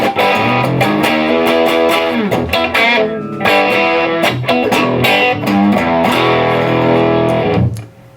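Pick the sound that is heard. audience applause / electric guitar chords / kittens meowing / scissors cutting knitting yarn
electric guitar chords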